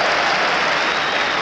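A hockey crowd at a Minnesota North Stars versus Vancouver Canucks game applauds in a steady, loud wash of clapping that fills the whole stretch without pause.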